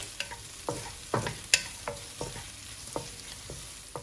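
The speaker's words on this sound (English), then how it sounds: "You just fry this for a little while, just to soften the onions and get all this beautiful flavor out." Onions softening in a hot pan for Kung Pao shrimp with lotus root, sizzling steadily while a utensil stirs and scrapes in repeated close strokes, with no talking.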